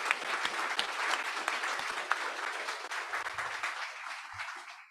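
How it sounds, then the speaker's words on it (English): Sustained audience applause at a grand re-opening ceremony, steady dense clapping from a crowd that holds for several seconds and eases slightly toward the end, with no talk over it. "I want to give them a huge round of applause just on behalf of all of us."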